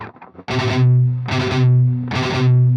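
Heavily distorted electric guitar plays a chugging gallop riff in three repeated bursts, loud and close, with no voices.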